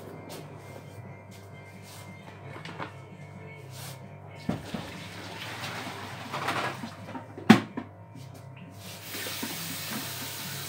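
Water runs from a kitchen faucet into a sink in a home, a soft steady stream with a few clunks and knocks, growing brighter toward the end.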